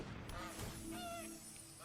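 A cartoonish goose honk from the Gilded Goose card in the MTG Arena digital card game: a couple of short nasal honks over game effect sounds and a soft background hum.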